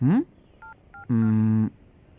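Telephone dialing tones during a redial: short beeps from the keypad, then a longer steady tone, alone with no talk.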